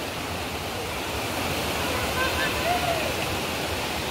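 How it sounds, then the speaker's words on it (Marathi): Plenty of water rushing over a dam, a steady broadband roar close by, with faint voices briefly rising over it near the end. "धरणावरती पाणी पण चिक्कार असा दादा"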